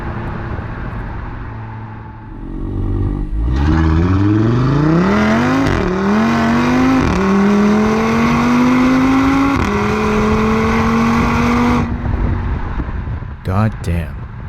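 A tuned 520 hp Audi TT RS with a dual-clutch gearbox launches hard in full auto mode. The loud, close engine roar rises through several quick upshifts, each one dropping the pitch briefly, before the car backs off.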